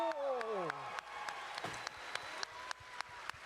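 An audience applauds at a panel with a Final Fantasy voice actor: a brief voice opens, then scattered claps and a soft, steady wash of clapping continue at moderate distance.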